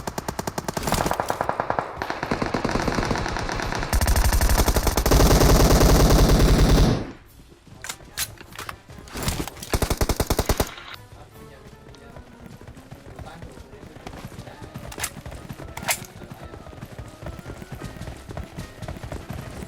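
PUBG Mobile gunfire: dense, loud bursts of rapid shots fill the first seven seconds, followed by sparser, scattered single shots and distant pops under ongoing game noise.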